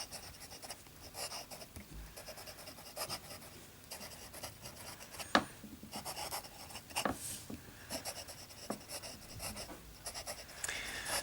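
A fountain pen nib writing on paper with Rohrer und Klingner Alt Goldgrün ink, soft scratchy strokes in irregular bursts, close and quiet, with a few sharper taps along the way.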